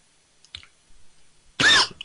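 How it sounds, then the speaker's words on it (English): A person coughs once, loudly and harshly, after a few faint small sounds in an otherwise quiet room. A second, smaller noise follows at the very end. "coughing again"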